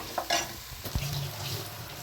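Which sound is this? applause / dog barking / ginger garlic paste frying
ginger garlic paste frying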